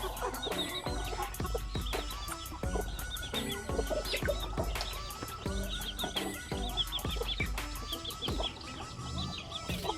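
Silkie hens cluck repeatedly in short bursts while arranging a nest, with sharp clicks and rustling around them; busy, close and fairly continuous, no talking.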